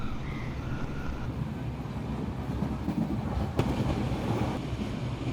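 Mandalay–Yangon passenger train on Myanmar Railways, heard from on board as a continuous loud rumbling roar of carriages rolling over the rails, with a faint click and rattle, no talking.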